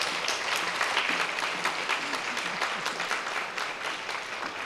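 An audience at a university Christmas concert applauds to welcome a singing teacher, steady warm clapping from a sizeable crowd that stays even and moderately loud with no talking.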